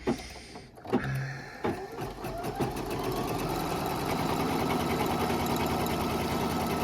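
An embroidery machine stitches a tack-down on a machine-embroidered house project: a few start-up clunks, then a fast, even, loud mechanical needle rhythm running steadily up close.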